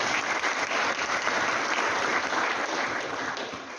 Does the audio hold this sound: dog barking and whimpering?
no